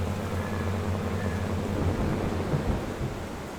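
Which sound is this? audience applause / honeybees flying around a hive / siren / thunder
thunder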